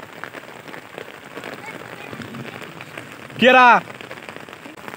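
Heavy rain drums on surfaces around a farm, a dense, steady patter close by, briefly interrupted by a person calling out a short word partway through.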